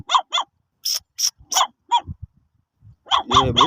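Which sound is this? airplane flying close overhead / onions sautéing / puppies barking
puppies barking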